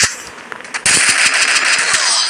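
Rapid gunfire in the mobile battle game Free Fire MAX during a 1v1 custom match, a few light shots followed by a dense, loud burst of continuous automatic fire.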